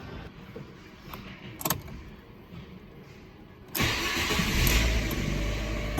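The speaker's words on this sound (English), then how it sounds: "I shall run the engine" A 2010 Ford Ka Titanium with a replacement engine cranks and starts partway through, then settles into a steady close idle after a quiet stretch with a few clicks and knocks.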